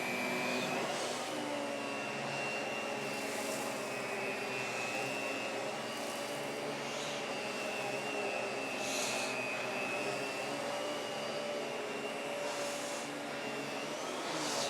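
A thrifted Electrolux vacuum cleaner runs steadily and close, a continuous whining motor drone with a high tonal whistle and airy rush, level throughout with faint shifts as it is moved, no voices.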